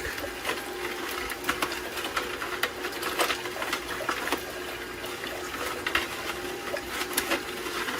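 A Canoly C16 cold press juicer working through carrots gives a steady mechanical whir close up, with irregular small clicks and crunches scattered over it and no talk.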